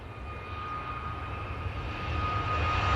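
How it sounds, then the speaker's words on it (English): An easyJet Airbus A320neo rolls for takeoff at Manchester Airport, a steady broad engine roar that swells gradually louder toward the end, heard from a distance without voices. "EasyJet rolling. This is off to Malta using the A320neo."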